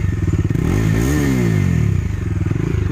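A new motorcycle's exhaust thumps loudly and close after starting, a throbbing idle that swells in one quick rev and settles back.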